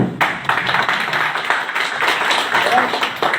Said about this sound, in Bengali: এই ওনার জন্য একটা জোরদার হাততালি